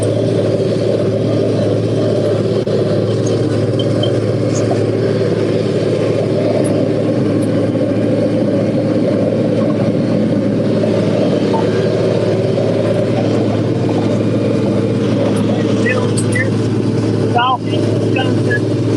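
A Farmall 826 tractor engine drones loudly and steadily as it pulls a hay baler through a Wisconsin field in the evening. The even, close mechanical roar holds throughout with slight bumpy rattling.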